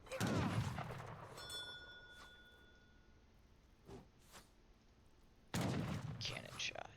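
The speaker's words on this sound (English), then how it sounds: "Cannon shot." A loud cannon blast booms in the video game Age of Empires III, followed by quiet ringing tones and a faint thud, then another heavy burst of battle noise near the end, while a commentator talks.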